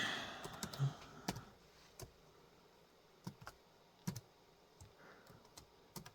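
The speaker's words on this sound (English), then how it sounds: "Let me type my password in." Typing a password on a Dell laptop keyboard, a faint, sparse run of separate key clicks at irregular intervals in a quiet room.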